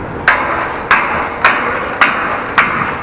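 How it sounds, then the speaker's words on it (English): At a building construction site with scaffolding and a big crane, a hammer strikes metal five times in an even rhythm, about half a second apart. Each blow rings out loud and sharp over a low background of traffic and wind. "hitting with a hammer on some metal"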